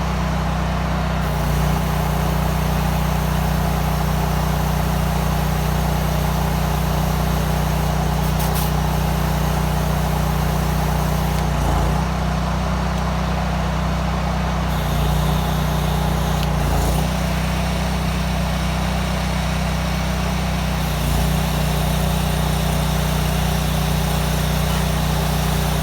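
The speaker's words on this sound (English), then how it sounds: "something don't sound right with my power washer." A power washer's gas engine runs with a loud, constant droning hum while sounding not quite right. Brief dips and hitches break up the steady roar at intervals, and no one speaks.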